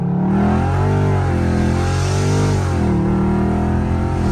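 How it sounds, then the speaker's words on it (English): Dodge Scat Pack V8 revving hard under heavy acceleration, a loud, steady, close engine roar with rising and falling pitch sweeps. "hit the gas so hard, Siri started talking"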